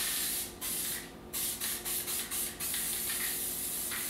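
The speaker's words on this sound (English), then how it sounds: "Spray it up with some more of this adhesive." Adhesive sprays from an aerosol can in a string of short, loud hissing bursts close by during DIY board-game tabletop work.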